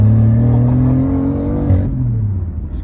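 A Liberty Walk-kitted BMW i8 engine rumbles loud and close as it accelerates, its low tone rising steadily before easing off with a brief drop in pitch near the end.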